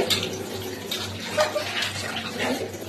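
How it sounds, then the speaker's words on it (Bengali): Water running into a kitchen sink while dishes are washed by hand at home, a steady splashing rush with faint clinks of crockery, close by and continuous. "আমার মা বাসন মাজে, এইভাবে বাসন মাজতে পারে।"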